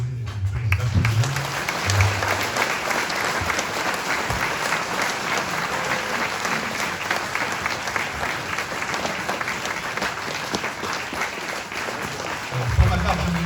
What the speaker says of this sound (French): si on peut les applaudir